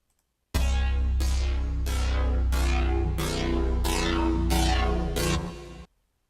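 Serum synth industrial patch with pitch bent down: a sustained buzzing synth note retriggered in a steady rhythm of about nine sharp bright attacks, each quickly darkening, loud and alone before stopping abruptly.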